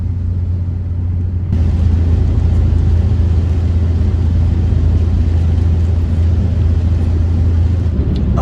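A 25-year-old French Renault Clio driving on the road, heard from inside as a steady low engine drone and tyre rumble that thickens after a second or two and holds evenly, with no speech.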